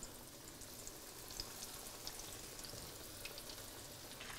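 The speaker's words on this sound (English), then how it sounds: "I'm just gonna take this and put it in the oil, and we're gonna let it fry for about 4 minutes on the first side" Bolivian silpancho patties frying in oil, a faint, even sizzle with scattered tiny pops and crackles throughout, no talking.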